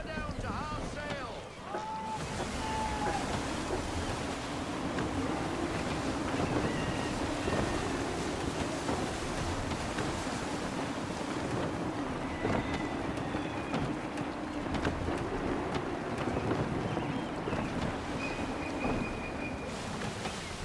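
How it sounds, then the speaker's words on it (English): Steady gusting wind and rushing waves surround a sailing ship at sea in Assassin's Creed 3, a dense continuous roar that holds at an even level with a few faint creaks and tones over it. "Gusty winds can be difficult to manage."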